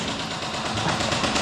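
Airsoft gunfire during a game, a dense continuous crackle of rapid shots filling the whole moment at close range, with no voices over it.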